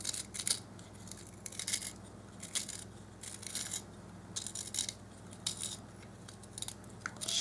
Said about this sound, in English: I'm gonna make the tip with a pencil sharpener.